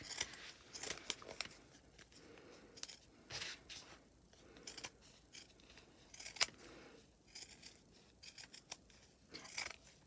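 Scissors snip through fabric remnants to cut star shapes for a quilted Christmas tree: quiet, close, irregular clusters of crisp cuts with short pauses between them. No talk.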